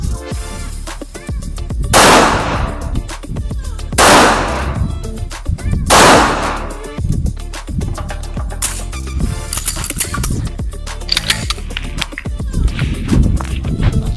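Loud gunshots ring out at a firing range, sharp blasts about every two seconds, then a looser run of further shots with echoing tails.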